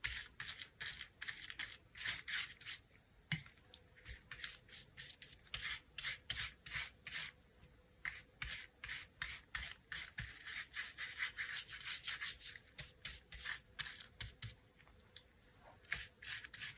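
Rust effect paint dabbed over a stencil on recycled packaging for junk journal ephemera, a faint, close rhythm of quick scratchy brushing strokes repeating steadily throughout, no voices.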